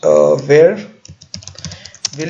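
A computer keyboard is typed on while writing an SQL self-join query, with a quick string of light close keystrokes following a brief voice.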